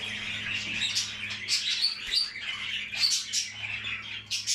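Several young birds in a nest give high, thin, rapid cheeping calls close to the microphone over a low hum, the calls coming in overlapping bursts without pause.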